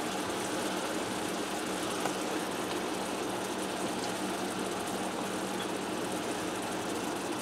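Strip steaks sear in a skillet set near medium-high heat, giving a steady, dense sizzle that holds at an even level for the whole stretch with no voices.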